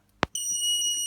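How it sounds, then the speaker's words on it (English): After a sharp click, a shrill, steady electronic alarm buzzer from an IoT project sounds continuously and loudly, a high piercing beep with no pauses. "the buzzer goes off, so you need to press the button."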